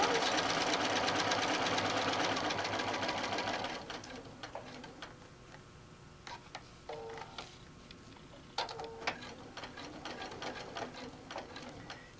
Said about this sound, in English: So we're going to stitch all the way around.